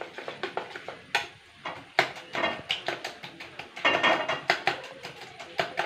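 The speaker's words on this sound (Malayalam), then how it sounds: "മുട്ട പൊരിക്കാൻ നന്നായി അടിക്കാൻ എന്നാലേ നല്ല ഫ്ലഫി ആയി വരുള്ളൂ" Eggs being beaten for a Kerala-style omelette with coconut: a fork or whisk rattles against a bowl in quick bursts of sharp taps, with brief pauses between runs, close and fairly loud.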